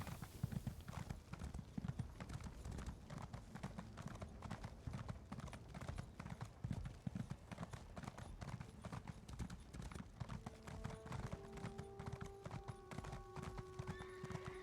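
Steady clip-clop of horse hooves galloping in The Elder Scrolls Online, loud and rhythmic throughout, with a brief whinny and a sustained tone rising near the end.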